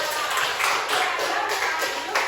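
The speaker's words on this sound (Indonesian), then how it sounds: "kita beri tepuk tangan dulu untuk semuanya" Classroom group applause for everyone, a dense burst of close hand clapping that continues steadily with slight rhythmic swells.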